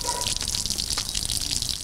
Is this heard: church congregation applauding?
no